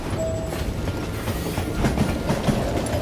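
A train in the Call of Juarez Gunslinger video game rattles along the rails with a steady, loud rumble and rhythmic clickety-clack of wheels, a brief squeal near the start, with no voices.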